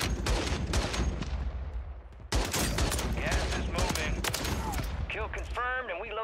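Rapid bursts of RPK light machine gun fire in the video game Warzone 3 on Rebirth Island: dense, loud crackling volleys that pause briefly mid-clip, then resume, with a voice-like tonal sound near the end.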